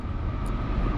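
A Union Pacific ET44AH freight locomotive rumbles past at close range, a steady, loud low-frequency roar that fills the whole second without pause and no voices over it.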